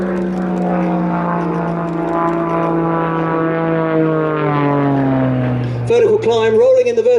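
Extra EA-330 aerobatic monoplane's propeller engine rolling through manoeuvres at an airshow, a loud sustained drone whose pitch slides steadily downward as it passes, then shifts abruptly to a harsher, wavering roar near the end, with faint commentary beneath.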